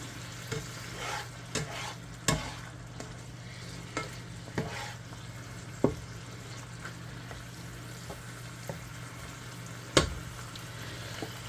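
Beef heats and fries in a pan under a steady low sizzle, broken by sharp spatula scrapes and taps every second or two, close and clear with no talking.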